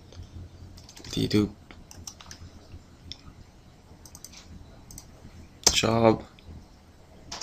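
Keystrokes click softly and irregularly as a command is typed into a Windows Server 2012 console, with someone speaking in bursts between them.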